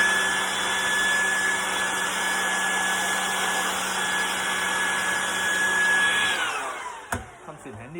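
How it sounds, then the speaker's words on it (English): A hair blower blows off freshly clipped hair during a home clipper haircut, a loud steady whoosh with a faint whine that runs for about six seconds, then cuts off into a few quieter clicks and rustles. "As you can see, again, the blower."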